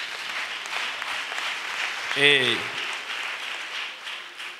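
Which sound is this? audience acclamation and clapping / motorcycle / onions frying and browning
audience acclamation and clapping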